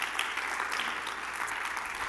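Church congregation applauding at a Sacramento service, a steady wash of clapping hands filling the room without a break, moderately loud and with no voices over it.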